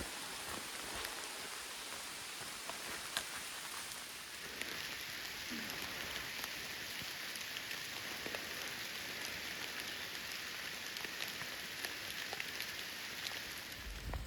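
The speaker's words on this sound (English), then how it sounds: "It's been pouring rain all day" Steady, heavy rain on the Appalachian Trail pours continuously, with a constant hiss of drops on a surface and occasional sharper pattering, no voices.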